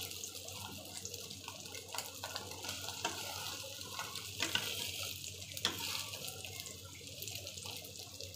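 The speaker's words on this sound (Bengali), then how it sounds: "ডিম ভাজি করছি খাওয়ার জন্য" An egg frying in a pan, a soft continuous hiss and sizzle with faint stirring or scraping sounds, quiet and close with a few brief louder crackles.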